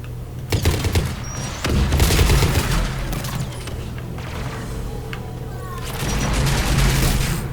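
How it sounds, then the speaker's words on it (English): Gunfire and booming blasts in Mass Effect Legendary Edition, including anti-aircraft guns, rumble as a dense, continuous barrage with scattered sharp cracks and heavy low thuds throughout. "Кто-то стреляет."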